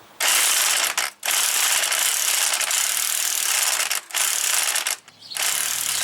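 A ratchet wrench loosens a front strut nut on a Chevy Equinox, its loud, close, rapid clicking running in long bursts broken by a few short pauses.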